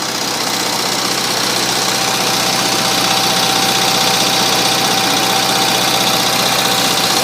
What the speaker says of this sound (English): Notice it starts right up.